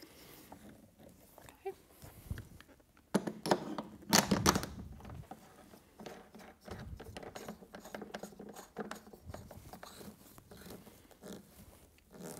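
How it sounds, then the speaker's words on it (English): Knobs being tightened down on the shoulder rests of a Pilates reformer with wooden posts, giving scattered mechanical clicks, ratcheting and small knocks, close and fairly quiet, with a louder burst of handling in the middle. "And now we'll tighten the knobs down so the shoulder rests don't rattle anymore."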